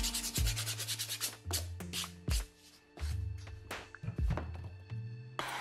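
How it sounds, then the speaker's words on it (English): Hand sander working along the edge of a foam LARP two-handed sword, heard as close rasping strokes in short bursts, each followed by low thumps and brief pauses. "you can come in with a hand sander as well to get a nice kind of edge, flatter edge to that sword"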